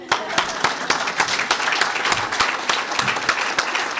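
Ceremony audience at an environmental education awards event applauding parents, a dense, steady wash of many hands clapping with sharp individual claps standing out, sustained throughout at moderate loudness.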